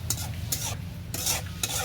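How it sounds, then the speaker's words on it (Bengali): A spoon stirs a dried fish curry with chili and garlic in a pan, giving four quick scraping strokes over a soft sizzle, close and clear with no voices. "নাড়াচাড়া দিয়ে দিচ্ছি আমি"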